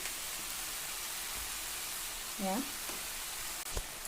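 Bitter gourd and potato with salt and turmeric fry in a pan with a steady, hissing sizzle throughout; a brief voice cuts in midway and a soft stir knocks near the end.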